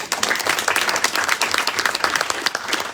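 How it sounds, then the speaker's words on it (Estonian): Dense, steady audience applause fills a book launch presentation for the book "Õpime liikudes", with many hands clapping loudly and continuously throughout. "teeme aplausi"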